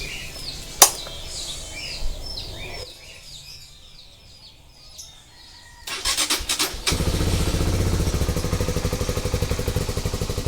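A Rusi Flash 150X motorcycle engine starts after birdsong and a quiet pause, then idles with a loud, uneven, pulsing chug, its 150cc single stumbling with misfires and delayed combustion.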